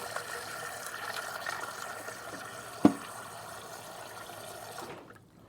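Ice-cold water poured steadily over sliced onions in a bowl, a continuous moderate splashing stream with one sharp clink midway, ending abruptly into silence.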